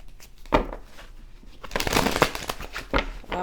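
Tarot cards being shuffled by hand during a reading, a soft papery riffling that comes in a few uneven bursts with a louder flurry in the second half, close and fairly quiet with no talking.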